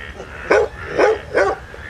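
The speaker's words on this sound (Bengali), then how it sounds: "হঠাৎ আমার পিছনে কুকুর ডেকে উঠল।" A dog barks three times at a steady pace, fairly close, at night, over a faint background hum.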